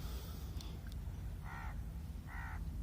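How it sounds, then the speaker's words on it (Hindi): Two hoarse crow caws sound in quick succession over a steady background hiss, fairly close and distinct, with no talking. "यहाँ पे आप चाहे चिड़िया हो, कौवा हो, ये साउंड इतना मस्त साउंड है यहाँ पे"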